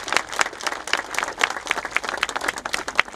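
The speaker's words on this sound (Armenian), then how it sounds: "Այս պահին ծափարենք նաև նրա ընկերոջը։" A crowd applauds steadily throughout at a memorial monument unveiling ceremony in Gyumri honouring an experienced military scout, with dense, continuous clapping that is loud and close.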